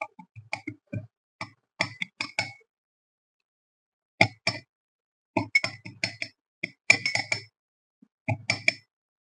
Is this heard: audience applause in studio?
no